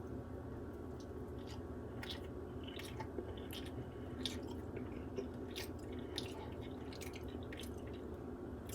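Someone chews a bite of homemade pumpkin pie made from a real pumpkin, close and soft, with faint moist bites and smacks in an irregular rhythm over quiet room noise.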